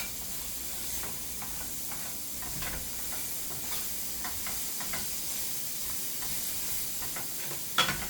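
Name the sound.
stir-frying with a spatula in a pan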